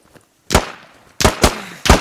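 Gunshots ring out in the video game Squad: four loud, sharp cracks, one alone and then three in quick succession, each with a short echoing tail.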